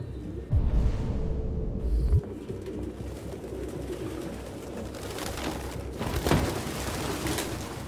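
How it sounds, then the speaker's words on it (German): Pigeons coo in a city street scene in the video game Detroit: Become Human, soft repeated coos alongside wing flutters and a whooshing ambience, with no talk over them. "All diese Tauben überall, ey."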